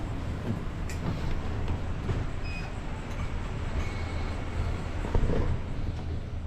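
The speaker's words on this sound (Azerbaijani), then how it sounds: "Tren burada, qatar burada." Steady low rumble and rattle of a train in motion at a station in Yogyakarta, Indonesia, continuous and fairly loud, with faint high squeals now and then.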